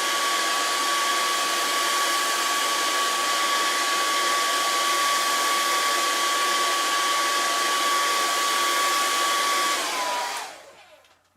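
A warm hair dryer runs steadily over a watercolour painting of a river scene, a loud, even whirr with a constant whine that holds for about ten seconds before it is switched off and winds down.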